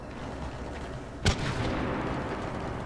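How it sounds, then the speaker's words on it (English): A single sharp gunshot in the video game Mass Effect 3 cracks over a steady background hum, followed by a brief low rumble. "Oh, that's gunfire, mate"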